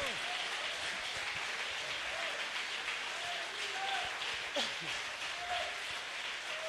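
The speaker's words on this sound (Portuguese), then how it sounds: "pode aplaudir o Senhor" A church congregation applauds during a sermon, giving steady, sustained crowd clapping through the whole stretch with a voice heard over it.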